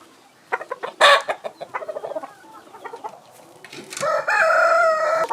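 An imported gamefowl rooster from Puckett Game Farm clucks in short, close bursts, then crows loudly and at length, with other fowl cackling nearby.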